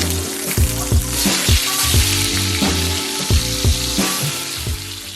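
Salmon fillet sears in a hot pan with a steady, loud sizzle and hiss, alongside a strong rhythmic pulsing low tone throughout.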